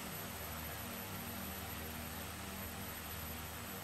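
Simulated Beechcraft B1900D turboprop from X-Plane 11 idling on the ground, a steady, dense propeller drone with a constant high whine held without change throughout.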